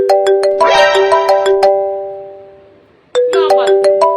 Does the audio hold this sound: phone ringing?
yes